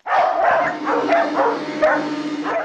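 A dog barks repeatedly in short, loud bursts, close by, with brief whimpery yips between barks.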